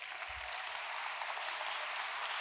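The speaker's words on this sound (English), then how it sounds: "I'm going to give him a round of applause as well." A crowd applauds steadily, a dense continuous patter of clapping at moderate distance with no voices over it.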